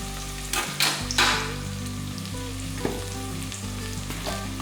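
Small shallots frying with a pinch of turmeric in a pan, a steady sizzle with bursts of louder crackling and occasional stirring scrapes, no voices.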